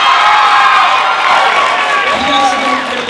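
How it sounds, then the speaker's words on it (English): A high school audience after a production of The Little Mermaid, loud and close, with whoops, shouts and a crowd roaring throughout and only light clapping; voices also speak among the noise. "we're going to give you guys a round of applause"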